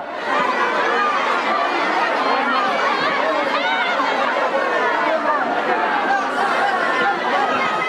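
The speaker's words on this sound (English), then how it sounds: "The crowd is uncontrollable as people penned for hours sprint toward the ration lines." A large crowd that has been penned in for hours surges toward ration lines, producing a dense, constant roar of overlapping voices and shouting that stays loud and unbroken throughout.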